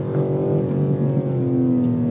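Engine sound of a BMW M3 Touring, played through the car's cabin speakers, forms a steady droning hum with a slight rise in pitch toward the end, heard from inside the car with no talking.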